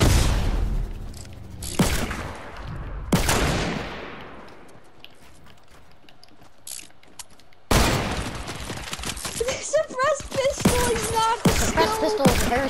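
Suppressed pistol gunfire in Fortnite: a few sharp, isolated shots with decaying tails, a long lull, then a dense run of rapid shots and clatter close by.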